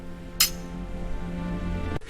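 Glasses clink once sharply during a vodka toast between Soviet and American officers, a bright chime followed by a quieter second clink near the end, over a low steady background hum.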